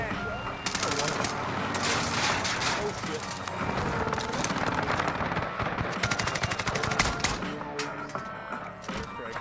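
Rapid automatic gunfire from Call of Duty Warzone, with dense bursts of machine-gun shots and scattered single reports continuing throughout, while a player talks over the action.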